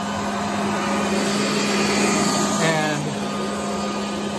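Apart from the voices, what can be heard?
Tennant T3 floor scrubber brush and pad motor running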